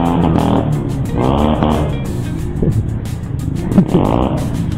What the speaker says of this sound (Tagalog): Ayos yung mga nagmumotor na to ah